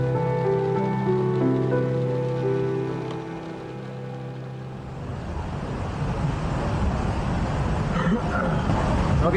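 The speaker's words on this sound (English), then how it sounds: "We're just gonna try to wait this rain out" Rain falls outdoors with a steady hiss that grows denser and louder over several seconds, following a stretch of tonal music that fades out.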